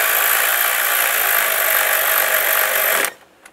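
A power tool whirs loudly and steadily while tightening a bolt on the MAP sensor cover of a 2000-2006 Chevrolet Tahoe, running for about three seconds before cutting off abruptly into near silence.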